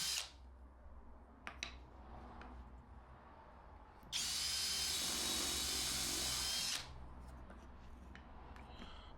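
A power drill bores a pilot hole in a piece of wood, one steady loud whine lasting a few seconds after some faint handling knocks, then cutting off to quiet.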